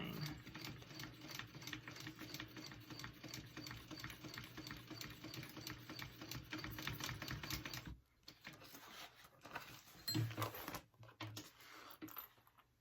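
A sewing machine runs steady rapid stitching on a tote bag for about eight seconds, then stops, followed by a few short bursts and handling noises.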